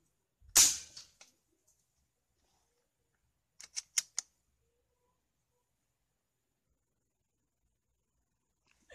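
One sharp air gun shot firing a homemade pellet at an oil filter, then silence and a quick cluster of three small metallic clicks, like the gun being handled or reloaded.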